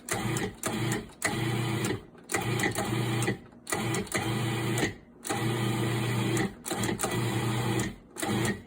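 A food processor pulses pie crust dough in a run of short, loud motor bursts with brief gaps between them, a whirring chop repeated about eight times up close.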